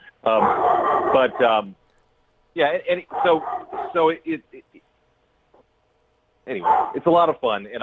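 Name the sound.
dog barking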